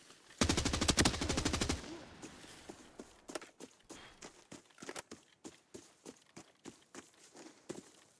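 AK-12 rifle fire in a video game: a dense, rapid automatic burst at close range that stops abruptly, followed by a steady run of sharp, evenly spaced clicks like quick footsteps.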